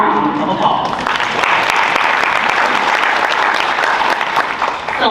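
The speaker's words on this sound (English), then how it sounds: "Give yourselves a round of applause." Audience applause at an education talk, steady and dense clapping from a crowd that builds quickly and holds loud throughout.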